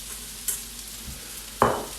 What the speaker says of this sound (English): That sizzling noise is what you're after.